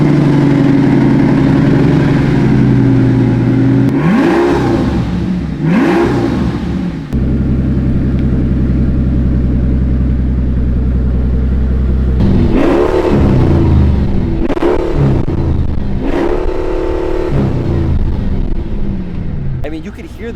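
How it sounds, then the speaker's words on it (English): A Mercedes V12 with a welded exhaust cranks and fires, then revs hard several times and settles into a deep, steady idle between blips, loud and close. "Now it's time to start that V12."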